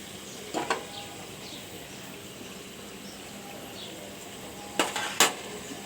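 A lid placed over a pot of beef curry on the stove gives two short pairs of metallic clanks, one early and one near the end, against a quiet kitchen background.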